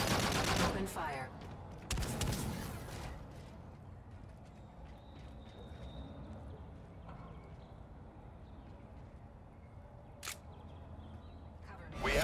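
Rapid gunfire bursts and single shots from a military video game, loud at first then thinning to scattered distant shots and a sharp crack near the end.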